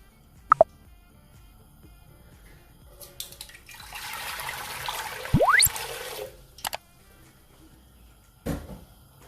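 Water from a jug poured into a cooking pot on the stove, a couple of seconds of splashing with a rising gurgle as the pot fills, bracketed by a few clinks and knocks.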